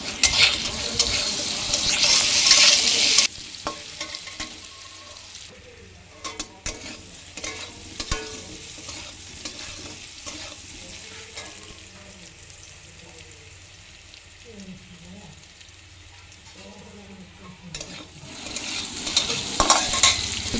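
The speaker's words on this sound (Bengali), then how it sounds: "এর মধ্যে দিয়ে দিতে হবে একটু লবণ আর একটু হলুদ সামান্য, দিয়ে তারপরে একটু ভাজাভাজি করে নিতে হবে।" Pieces of pumpkin, seasoned with salt and turmeric, fry in a pan for a vegetarian chana dal and pumpkin dish, sizzling loudly at first and again at the end, with quieter stirring and scraping in between.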